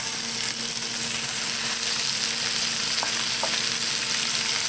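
Carrots, celery, Brussels sprouts and onions fry in a pan at medium heat, a close, steady sizzle with soft crackles and a couple of faint clicks, no talking.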